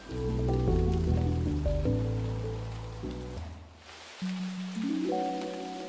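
Steady rain falls in the video game SCHiM, a soft continuous hiss under louder melodic game music that pauses briefly before resuming.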